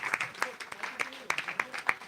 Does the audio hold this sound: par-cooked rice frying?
no